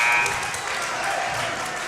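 Crowd applauding and cheering at a high school wrestling match between Lower Dauphin and Cedar Cliff at the end of a period, steady dense clapping with a buzzer sounding near the start.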